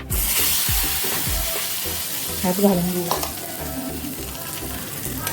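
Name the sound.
hot mustard-cumin tempering sizzling as it is poured into onion chutney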